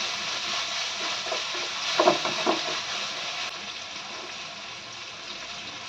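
Onion frying with salt in a pan, giving a steady, soft sizzling hiss with a few brief stirring clatters partway through, close and fairly quiet.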